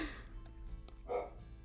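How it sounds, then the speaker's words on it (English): A small dog gives a few faint, short barks, spaced apart, somewhere in a quiet room. "Oh, Ernie's barking."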